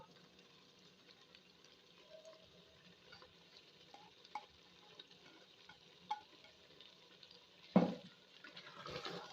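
Ojri (tripe) being fried in ghee and stirred, a faint low sizzle under scattered soft scrapes of the spoon and a sharper clatter near the end.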